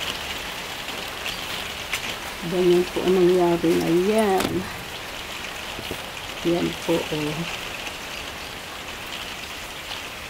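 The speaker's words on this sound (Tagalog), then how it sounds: "Pagkatapos ng unos, hihinto na ang ulan" Steady rain hisses in the background while someone talks over it in short bursts.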